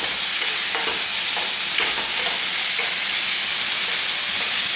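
Garlic cloves and green onion fry in a pan for Chinese-style lobster sauce, producing a loud, steady sizzling hiss with faint crackles throughout and no voices.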